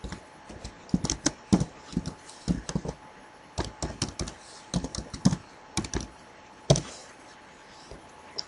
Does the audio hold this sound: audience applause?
no